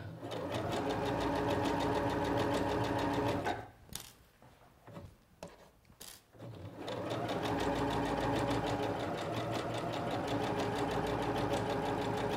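A Singer Professional 9100 sewing machine stitching a hem in fabric, running loud and steady for several seconds, pausing briefly amid faint handling noises, then resuming its even whir.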